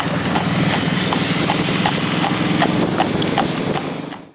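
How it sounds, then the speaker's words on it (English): Hoofbeats of a Postier Breton cross Thoroughbred horse cantering in harness while pulling a carriage, a steady rapid clip-clop close and loud throughout, fading out at the very end. "Here we are showing that Blerio can now be cantered in harness, showing that he is not frightened of the carriage behind him"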